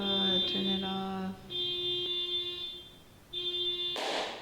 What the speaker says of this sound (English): Car alarms all day. Oh God, turn it off.